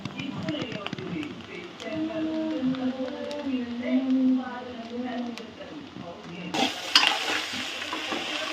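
Egg fried rice being stirred and roasted in a pan: steady scraping and frying crackle under a talking voice throughout, with a brighter, sharper burst of sizzle near the end.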